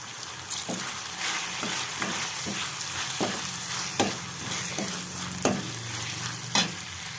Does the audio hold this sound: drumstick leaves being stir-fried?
yes